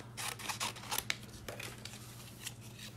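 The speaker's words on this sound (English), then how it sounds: "We're going to cut a few circles." Scissors snip through paper to cut out circles for an art journal page, a series of quiet, close, crisp cuts in uneven bursts over a faint steady background hum.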